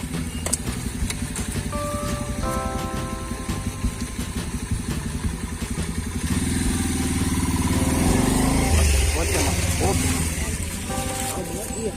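A motorcycle on a short-film set rides up and pulls to a stop in front of a girl. Its engine idles and putters, swells louder midway as it arrives, then settles back to a steady idle, with voices nearby.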